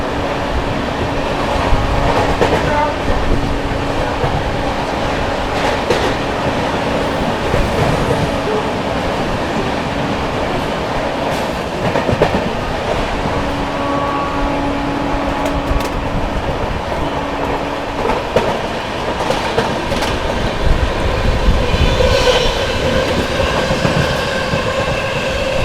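The 12566 New Delhi–Darbhanga Bihar Sampark Kranti Express rushes through Aligarh Junction at speed, a loud continuous roar of wheels and coaches with rhythmic clickety-clack and faint squeals sustained throughout.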